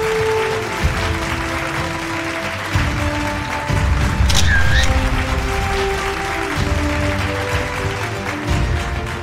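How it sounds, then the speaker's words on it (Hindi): Audience applause at a business conclave event, broad and sustained clapping mixed with background music and an announcer-style voice, swelling louder midway. "एक बार जोरदार तालियां मैम के लिए"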